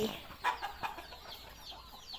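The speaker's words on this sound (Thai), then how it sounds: "ไก่เลี้ยงไว้จ้ะพี่น้องจ้ะ ไก่บ้านเลี้ยงไว้" Backyard domestic chickens kept at a rural Thai home cluck in short, soft bursts, with a couple of louder calls near the start, over faint outdoor background.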